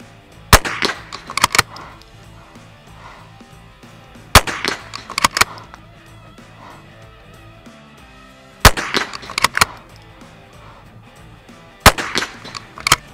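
Rifle shots at a shooting range, each sharp crack followed by the clack of the bolt being cycled, coming in four loud, close bursts spaced a few seconds apart with no talking.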